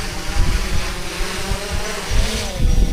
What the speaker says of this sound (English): If you can hear that, here comes the drone.